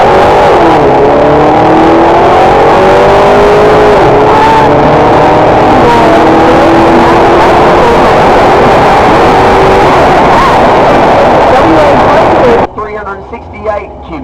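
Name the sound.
Super Street race car revving during qualifying at drag racing event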